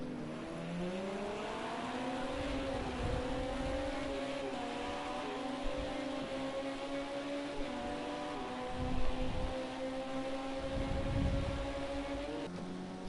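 LMP2 prototype race car engine running steadily at close range, a sustained harmonic drone that rises gradually in pitch with a few brief throttle surges, no talking.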